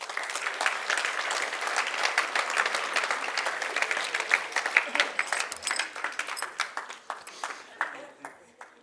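A church congregation applauds together, dense clapping that is loud at first and then thins into scattered claps before fading out near the end.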